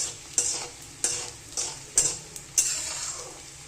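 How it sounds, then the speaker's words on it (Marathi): Edible gum (dink) fries in hot oil in a home kitchen pan, a soft steady sizzle broken by roughly six sharp scraping and stirring strokes from a utensil at a fairly even pace. "आता हे इकडं तेल तापलं ना डिंक तळून घ्यायचं"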